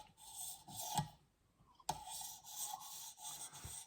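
A knife blade is drawn across a 1000 grit sharpening stone, giving soft, quiet rasping strokes in a few separate passes with brief pauses between them.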